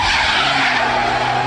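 Front-wheel-drive car drifting through a 90-degree turn, a loud, continuous tyre skid with steady engine drone underneath, close and unbroken for the whole moment.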